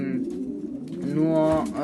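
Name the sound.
breeding pigeons cooing in a loft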